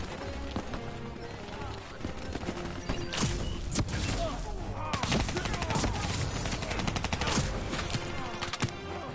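Dense, continuous gunfire from the Black Ops 3 campaign, a World War II battlefield scene with rapid volleys and machine-gun bursts over clattering noise, loud throughout with a voice talking over it.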